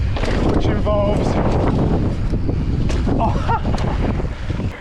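Strong wind blowing across a mountain biker on a trail, loud continuous rushing buffeting the microphone, with a voice speaking through it.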